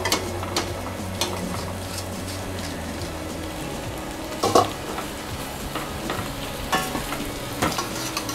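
A spoon stirs pasta into a creamy white sauce in a pan, making soft wet scraping and slapping sounds over a faint steady sizzle, with a few sharper knocks against the pan.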